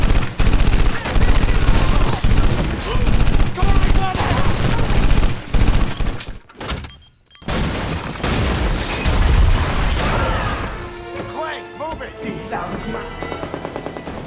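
Rapid gunfire bursts ring out in a Russian mafia film scene, loud and dense over a dramatic music score, with a brief lull midway before quieter, sparser sounds return.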